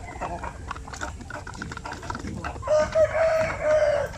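A native rooster crows twice close by, with long drawn-out calls over a continuous background of clucking and other poultry noise.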